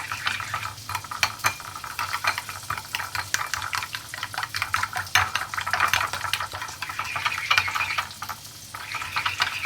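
Homemade burger sauce is stirred together, giving a steady run of quick, close scraping and clicking strokes at a brisk, uneven rhythm throughout, with no talking.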